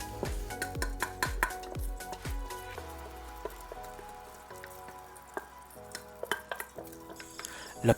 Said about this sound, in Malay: Lepas masukkan beras, kita kacau-kacau sekejap